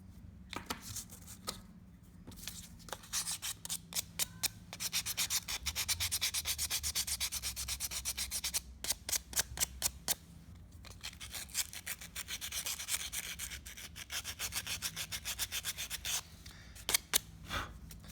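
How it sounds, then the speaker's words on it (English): A recycled Corian fish hook rubbed hard across sandpaper to smooth rough edges: close, continuous rasping strokes in long bursts with brief pauses between passes. "put the whole piece on the sandpaper and give it a nice workout, trying to take off some of those rough edges"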